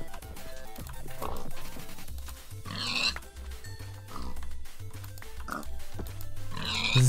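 Pigs oinking in Minecraft modded with Tekkit Lite, several short grunting snorts repeating at intervals over steady game background music.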